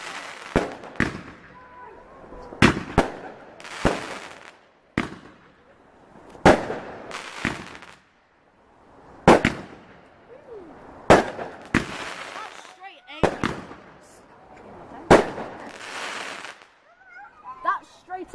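Box fireworks burst on Bonfire Night in a run of sharp, loud bangs and crackles, some booms close together and others spaced a few seconds apart, with people talking between the explosions.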